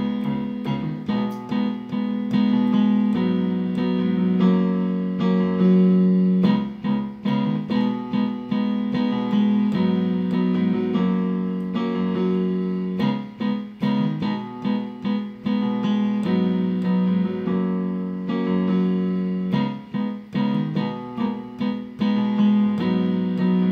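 Solo piano playing a song, a steady stream of chords and melody notes over a sustained low register, close and continuous for the whole stretch, with no talking.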